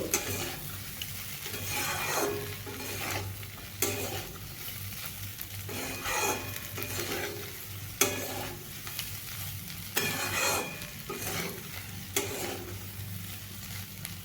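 Potatoes and chana dal fry and sizzle steadily in a pan, with repeated stirring scrapes at a regular pace over a constant low hum, close and moderately loud, with no spoken voice.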